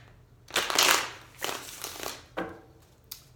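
Klimt Tarot cards being shuffled by hand in a few quick riffling bursts, the first longest and loudest, followed by shorter crisp papery flurries with brief pauses between them, close and fairly quiet.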